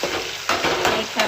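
Curry leaves hit hot oil and crackle, making a brief, close sizzle that flares in a few quick surges with stirring in between.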